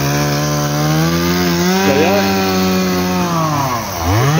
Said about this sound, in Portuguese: Cortar a grama do motosserra.